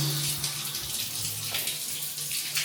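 A toilet in a recently turned-over house flushes in a steady, loud rush of water, close up, with a low gurgle underneath and no voices.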